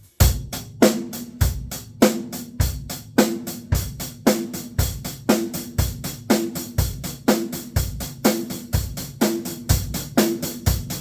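A drum kit playing a simple repeating beat of kick, snare and cymbal hits, with the pattern gradually pushing faster and drifting off tempo.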